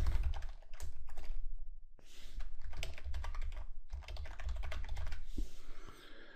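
An email address is typed on a computer keyboard in steady, close bursts of rapid key clatter, broken by a couple of short pauses, with no voices over it.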